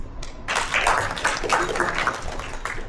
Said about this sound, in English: A big clap, please.